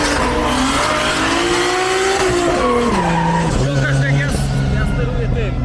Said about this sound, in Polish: teraz nasz przyjaciel Smoliński zasuwa swoim niesamowicie jeżdżącym Nissanem S14